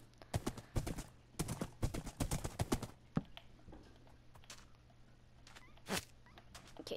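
Horse hooves clip-clopping in Minecraft, quick bursts of crisp steps in clusters, then a few scattered hoofbeats, fairly loud and up close.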